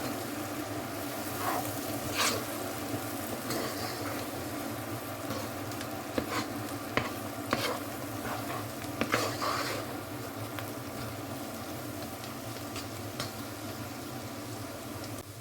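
Onions softening in a covered pan for a dried squid curry, a continuous moderate sizzle and simmer with occasional light clinks and stirring taps, close by, no talking.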